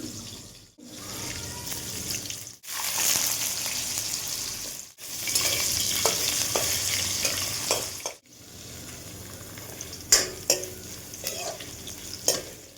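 Oil sizzling in a pan while cooking a Bengali okra chorchori, a steady broadband hiss broken by short pauses, with stirring and clinking toward the end; no talk.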